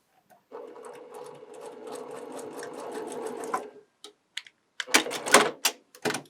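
A sewing machine runs in one steady rapid burst of stitching along a curve in cotton patchwork, then stops, followed by a few sharp handling clicks and rustles of fabric up close.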